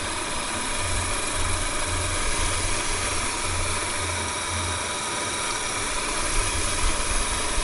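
Liquid-cooled machine cutting a transformer core, a steady broadband mechanical hum and whir with a low rhythmic engine-like drone, close and continuous, with no talking.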